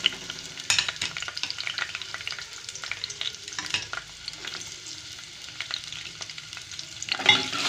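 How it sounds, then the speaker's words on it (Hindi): Onion and cumin fry in a pan, sizzling steadily while a utensil stirs through them with frequent scraping clatters, a louder burst of stirring near the end; no one speaks. "अब इसमें प्याज और ये ज़ीरा मैंने मिक्स कर दिया,"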